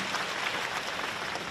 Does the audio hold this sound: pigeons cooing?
no